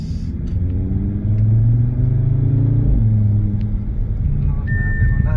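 A car accelerating hard, its engine likened to a small Lamborghini, gives a loud, steady rumble with rising and shifting engine tones heard close from inside the vehicle.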